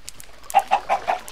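Minecraft chickens cluck in four short, evenly spaced calls, clear and fairly close, with a faint soft tone before them and no talking.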